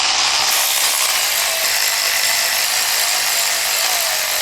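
A power tool zips bolts down on a Subaru WRX STI EJ20/EJ25 engine build, giving one continuous loud, close ratcheting whir that holds steady throughout with no pauses.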